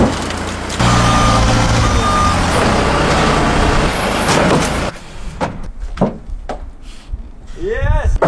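A forklift rated for 6,000 pounds runs loud and close, a steady high beep repeating over the engine noise, then the machine quiets into clanks and thumps with brief squeaks at the end.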